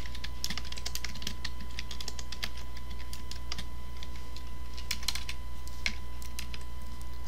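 Keys on a computer keyboard clatter in a steady run of light clicks as an address is typed, heard close over a constant low hum.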